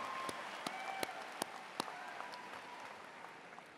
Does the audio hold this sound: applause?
yes